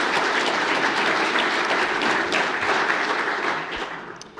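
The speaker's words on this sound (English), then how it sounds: "I'd like to take just give them a round of applause, please" An audience at a national student awards ceremony breaks into loud, dense applause that holds steady, then thins and tapers off near the end.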